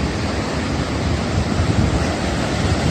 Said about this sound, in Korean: 바람이 오니까 파도가 세합니다, 여러분들.